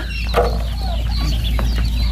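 Farm chickens cluck on a mixed Thai farm that also keeps geese and turkeys. Several overlapping clucks and short calls sound close and steady over a constant low background hum.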